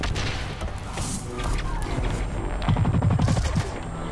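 Shot grenade explosions in the Blacklight shooter game, a loud chaotic burst of blasts, cracks and gunfire with a tight rattling volley near the end, all close and dense.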